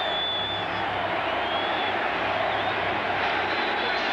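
A big stadium crowd at a 1994 NFL football game, the New York Jets at the Green Bay Packers, keeps up a steady, loud roar of chanting fans that washes continuously across the scene.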